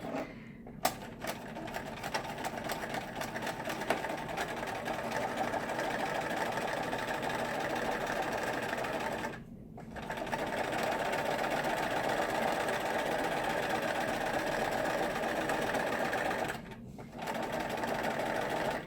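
A sewing machine runs fast and steady while top-stitching a cloth diaper cover, its needle rattling in a continuous mechanical hum that breaks off twice for brief pauses.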